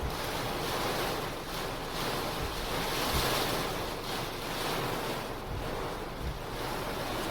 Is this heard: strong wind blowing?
yes